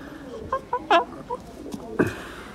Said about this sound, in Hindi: ये हमारा नया मुर्गा है, बीमार है थोड़ा सा